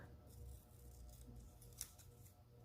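Scissors cutting out a cross shape: faint, close snipping and slicing with one crisp snip standing out partway through, set against a low background hum.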